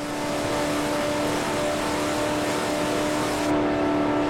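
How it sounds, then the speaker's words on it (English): Loud, steady drone of a shouty car engine of about 180 horsepower revving at sustained speed, with a constant tonal hum over road roar and no voices. "but it's a shouty engine."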